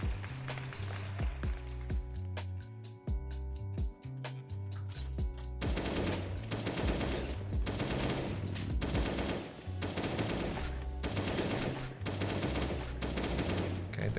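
Rapid bursts of gunfire from guns in the survival video game Last Day on Earth: Survival, loud and dense, rattling continuously over a steady, looping low musical backing.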